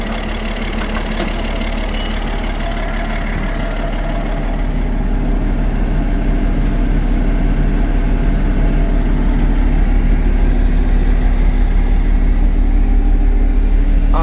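A 2012 Kawasaki engine on a ZV machine runs steadily with its air filter removed, giving a loud, close, continuous low idle rumble that swells slightly and then holds even throughout.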